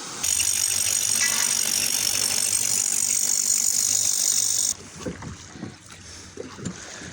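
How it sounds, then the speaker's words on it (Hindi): Boat travelling on a river with water slapping against the hull, a loud steady engine roar and hiss of spray for about four seconds, then quieter irregular splashes and knocks of water on the hull. "ज़्यादा शोर भी महसूस हो रहा है और ज़्यादा स्पीड भी इतों पानी टकराने की वजह तो हो रही है"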